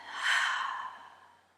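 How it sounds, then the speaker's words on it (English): A single deep breath let out through the mouth, a soft breathy exhale that swells quickly and then fades slowly over about a second and a half, close and alone in a quiet room. "Take a deep breath. And as you exhale, exhale through the mouth"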